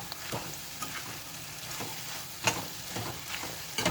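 Ground masala paste frying in hot oil for palav, a steady sizzle and crackle with occasional louder spits and stirring scrapes, close and continuous, with no talking.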